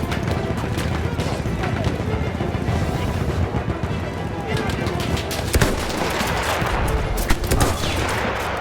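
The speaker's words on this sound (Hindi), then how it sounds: "कौन गोली चला रहा है अभी?" Gunfire from the video game Battlefield 1 at Cape Helles crackles in dense, continuous bursts with sharp shot transients layered over rumbling battle noise.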